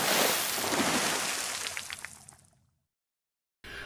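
Fresh water sloshes and splashes in a small emesis basin, close and fairly busy, tapering off into silence before a brief burst of noise returns at the very end.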